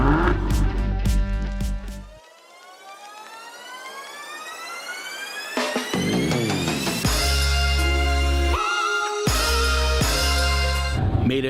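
A Maserati's engine roars up with a rising, sweeping whine as it revs, then settles into loud, sustained revs with brief drops between bursts, close and dominant with no talking.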